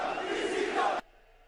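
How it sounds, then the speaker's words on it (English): A wrestling crowd at an AEW overtime match erupts in a loud, dense roar of cheering for about a second, then cuts off abruptly to near silence. "Crowd popped for it and everything"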